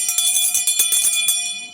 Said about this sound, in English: the people who rang the bell